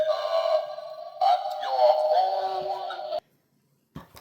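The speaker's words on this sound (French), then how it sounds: "si quelqu'un vient chez nous, toquer à la porte, eh ben, au moins, on a une sonnette. Il suffit d'appuyer et hop, voilà, ça fait peur." A Halloween doorbell plays a spooky electronic tune in loud, sustained tones for about three seconds, then cuts off abruptly, followed by a short soft noise.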